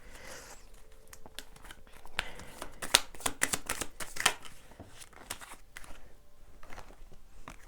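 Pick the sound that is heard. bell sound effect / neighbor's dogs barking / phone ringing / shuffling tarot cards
shuffling tarot cards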